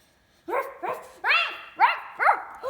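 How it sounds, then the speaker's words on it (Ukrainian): A shepherd dog barks repeatedly in sharp, close, spaced-out yelps, about five barks in under three seconds, with no talking. "Це овчарка."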